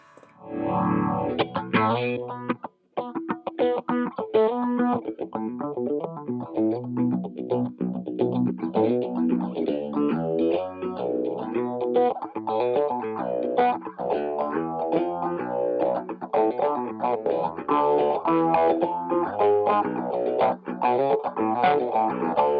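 Vintage phaser effect on a Boss MD-200 modulation pedal, a guitar played through it with a swirling, sweeping tone over chords and picked notes, loud and continuous.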